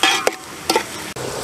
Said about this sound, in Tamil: நல்லா பொன்னிறமாக வர அளவுக்கு நல்லா வதக்கிடுங்க